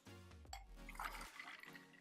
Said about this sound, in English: I'm now going to pop my tea over ice